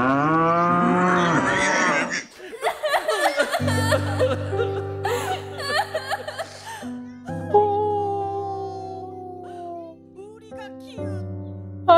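Cattle lowing in a French-language scene, several drawn-out moos with falling pitch, loud and close, mixed with chuckling laughter and other voices.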